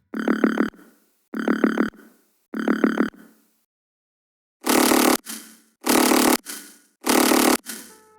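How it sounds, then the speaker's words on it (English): A plain, unprocessed synth bass from the Massive synth plays three short, clean, buzzy notes, then the same pattern returns much louder and grittier in three harsher processed bursts. "The sound comes from Massive and sounds like this before processing."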